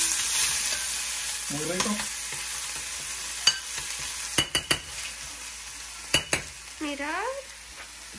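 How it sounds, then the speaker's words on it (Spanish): Garlic sizzles gently in a pan over low heat, a steady soft frying hiss with a few sharp utensil clicks and taps, while a person speaks briefly. "Vamos a poner a sofreír ajo."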